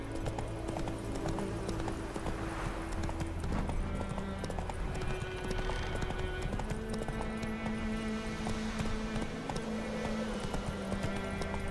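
Roach, a horse in The Witcher 3, gallops with steady clip-clop hoofbeats over continuous game music and ambience, with a brief whinny, and no one speaking.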